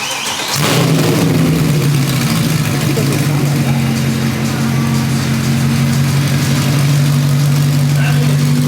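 A Mercedes W204 C63 engine with no exhaust fitted cranks and roars to life, then settles into a loud, rough, throaty idle with a deep steady rumble; voices react underneath.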